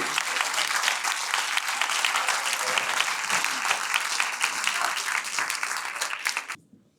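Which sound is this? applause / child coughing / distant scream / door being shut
applause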